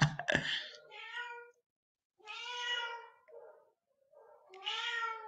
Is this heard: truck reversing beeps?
no